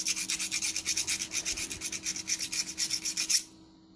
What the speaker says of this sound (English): I take my rounded file and I'll file right up top here a little bit to get any burrs off.